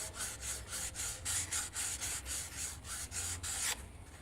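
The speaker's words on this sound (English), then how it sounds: "So I'm sanding now, and I'm going to the smoother paper" Smoother-grit sandpaper rubbed over the wood of a handmade dulcimer guitar, in about a dozen steady back-and-forth strokes, close and even, with no talking.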